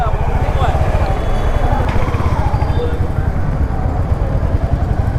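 Busy road traffic surrounds a rider on a motorcycle, with a steady low engine chug and rumble throughout, loud and continuous, with faint horns and vehicle sounds in the mix.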